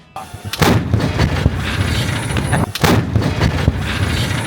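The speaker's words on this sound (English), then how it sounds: "This is an M114 155mm US howitzer." An M114 155mm US howitzer fires at an outdoor artillery shoot, with two huge booming blasts about two and a half seconds apart, each followed by rolling rumble and echo that fill the whole span.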